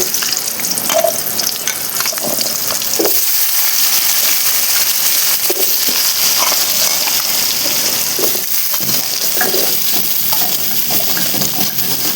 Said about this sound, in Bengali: এখন ডিম ভাজা তেলের মধ্যে আলুগুলো ভেজে নেব।